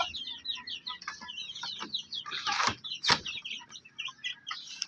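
Shamo game chickens cluck close by in a run of quick, repeated clucks and short calls, with a few louder squawks in the middle.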